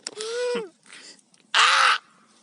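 At a winter tent campsite, a person mimics a crow, letting out two loud, harsh caws with a short pause between them, ending in a brief gap of quiet.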